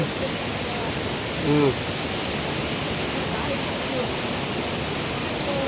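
A clear stream flows in a steady broadband rush of water, constant and fairly close, with a brief voice-like sound partway through.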